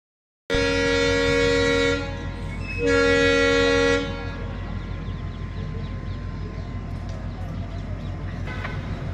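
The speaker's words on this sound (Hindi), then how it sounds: "और ये देखिए हमारी ट्रेन है।" The Rishikesh–Barmer Express stands at Haridwar's Motichur station, its horn blasting loudly twice in long sustained tones separated by a short gap, followed by steady engine and carriage rumble.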